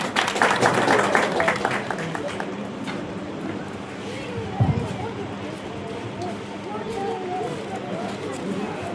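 Clapping from a gathered audience at a village panchayat public ceremony honouring a guest, a dense, steady patter of many hands at moderate distance with some crowd murmur mixed in, holding throughout.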